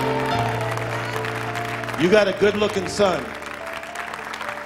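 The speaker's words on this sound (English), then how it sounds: "Give the Lord a clap like Jesus is the healer." A church congregation claps in a short burst of applause lasting about a second, while someone speaks over it and music plays underneath.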